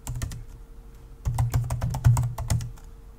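Keys clatter on a computer keyboard as a Linux firewall install command is typed, a close run of quick, uneven clicks in two bursts separated by a short pause, with no talking.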